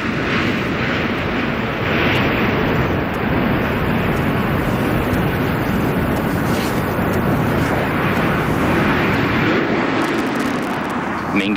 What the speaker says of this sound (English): the final landing there of the shuttle Discovery